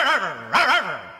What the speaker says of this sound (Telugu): ఏంటే కుక్క అట్టా సొస్తున్నావు?